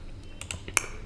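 Keys on a computer keyboard are tapped in CNC milling simulator software, a few light clicks followed by one sharper, louder keystroke near the end, close and dry with no voices.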